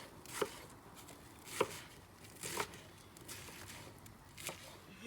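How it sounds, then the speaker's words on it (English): Knife chopping tomatoes for burgers outdoors, four or five distinct cutting thumps spaced about a second apart, fairly quiet with soft background noise between strokes. "we got Echo chopping them tomatoes"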